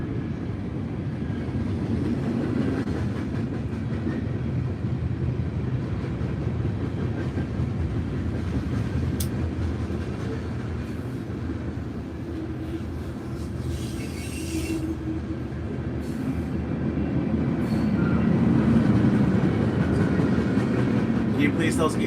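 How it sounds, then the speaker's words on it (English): A train rolling past a level crossing, a steady, fairly close low rumble of wheels on rails with faint squeals and clatter, swelling slightly near the end; no distinct loud horn blast stands out. "muted sound compared to what you might be expecting if you've ever heard a train while you're sitting next to a level crossing"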